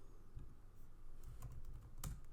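Commands typed on a computer keyboard: a short run of light, quick key clicks with a couple of sharper taps, close and alone.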